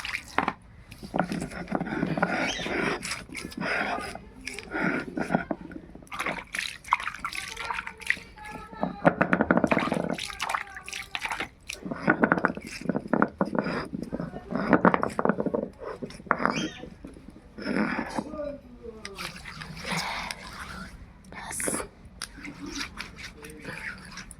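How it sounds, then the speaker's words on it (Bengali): A stone grinding slab (shil) is rinsed and scrubbed with water in a home kitchen. Intermittent splashing and rubbing sit beneath frequent nearby talking. "চলো এবার শিলটা ধুয়ে নিই"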